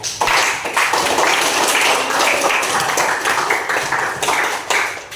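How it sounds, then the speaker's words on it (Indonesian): Classmates in a school lesson clapping for a fellow student, a lively burst of many hands with uneven rhythm, fairly loud and close, tapering off after about five seconds. "Kasih tepuk tangan buat teman kalian"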